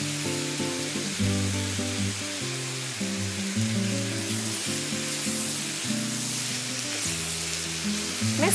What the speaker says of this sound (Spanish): Mezclamos y permitimos que se cocine por alrededor de unos 8 minutos.